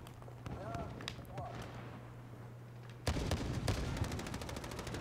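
In Call of Duty: Modern Warfare (2019), a quieter stretch with faint scattered sounds gives way midway to loud, rapid automatic gunfire, dense repeated shots rattling steadily to the end.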